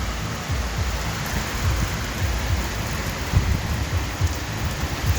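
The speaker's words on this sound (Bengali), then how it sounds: "কি বৃষ্টি, মারাত্মক বৃষ্টি।" Heavy rain pours down steadily outdoors, with dense, continuous hiss and patter on surfaces and occasional louder gusts in the downpour, all without any speech.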